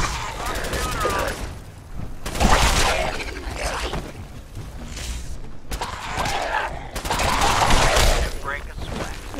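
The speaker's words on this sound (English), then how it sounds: "that is a pipe gun, That sets things on fire" Rapid bursts of gunfire from a pipe gun in a Fallout survival game, several loud rattling volleys separated by short pauses, with someone talking over parts of them.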